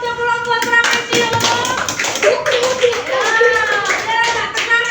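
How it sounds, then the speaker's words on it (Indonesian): A classroom applauds the trapezoid group in a short burst of hand clapping lasting a few seconds, mixed with children's chatter and voices, close and fairly loud. "tepuk tangan untuk kelompok trapesium"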